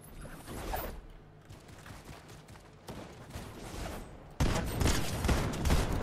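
Bursts of gunfire from Fortnite ranked gameplay, several rapid volleys with the loudest run near the end, mixed with game mechanism clicks and no talk.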